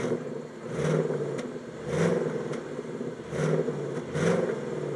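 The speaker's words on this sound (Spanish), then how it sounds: "este es el sonido que aparece cuando elegimos el modo silencioso" A 2022 Ford Mustang Mach 1 engine with its exhaust set to silent mode gives a steady, muted mid-range drone that swells in several brief pulses as if revved lightly. No one speaks.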